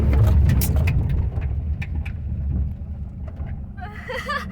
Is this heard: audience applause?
no